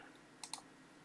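A computer mouse gives a left click, two quick close clicks heard faintly in a quiet room.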